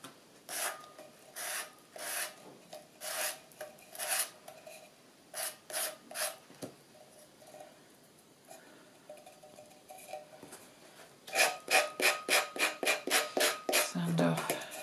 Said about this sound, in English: So then I'll just sand off those edges.